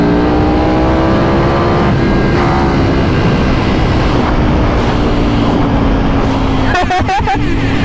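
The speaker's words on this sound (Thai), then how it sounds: "เฮ้ย เราเจอรถเลเซอร์ ใช่รถเลเซอร์เปล่าวะฮะ" A car passes with its engine roaring and revving continuously, loud and close, with a rising tone in the middle and a rough burst near the end; voices chatter underneath.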